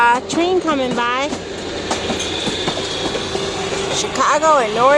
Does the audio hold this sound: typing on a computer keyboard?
no